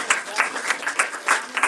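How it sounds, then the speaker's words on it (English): A crowd claps in steady applause, rhythmic bursts rising and falling over a couple of seconds, at a Krishna Janmashtami celebration in a cultural center. "A big round of applause,"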